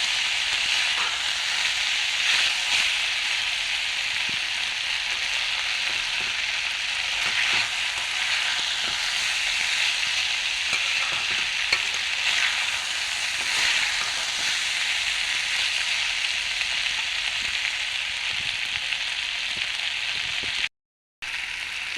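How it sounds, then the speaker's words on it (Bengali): Vegetable filling for singara fries in a pan, a constant loud hissing sizzle with faint stirring scrapes, steady and close throughout, briefly cutting out near the end, with no talk. "এখন আমি আগে ভাজিটা করে নিচ্ছি।"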